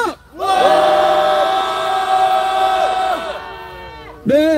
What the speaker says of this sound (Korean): 트럼프 방안 규탄의 함성 시작!